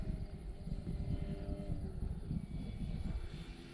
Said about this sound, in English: This plane just flies great.